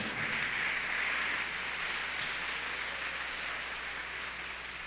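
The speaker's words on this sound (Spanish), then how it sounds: "Ahora sí, dele un fuerte aplauso al Señor." Church congregation applauding during a Spanish-language sermon, a steady dense wash of clapping that holds evenly from start to finish, moderately loud and without voices over it.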